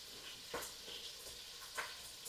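A chuck roast of a little over two pounds browns in a Dutch oven for Guinness beef stew. A soft, steady sizzle holds throughout, with a couple of brief spatters, faint and with no voices.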